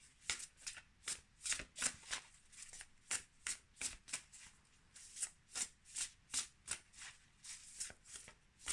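Close, quiet card shuffling, a series of rapid riffling bursts and soft taps repeating in a loose, steady rhythm.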